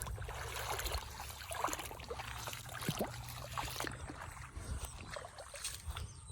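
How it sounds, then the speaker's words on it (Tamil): Water flowing and trickling outdoors at sunset, a faint, steady wash of running water with small splashes and gurgles, continuous and distant with no voices over it. "அப்படி தண்ணி ஓட்ட மட்டும் பார்த்தீங்களா"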